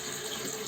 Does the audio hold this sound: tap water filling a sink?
yes